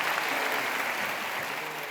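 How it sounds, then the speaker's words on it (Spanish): Church congregation clapping together in a dense, even burst of applause that fills the room and holds steady before tapering slightly at the end. "Y un gran aplauso para nuestros hermanos que los visitan."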